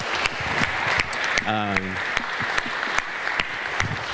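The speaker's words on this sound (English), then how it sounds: "Please give them a round of applause for having us." An audience at a museum panel event applauds, a steady wash of many hands clapping close by, with a brief voice speaking through it.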